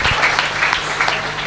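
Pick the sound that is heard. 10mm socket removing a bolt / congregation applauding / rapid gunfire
congregation applauding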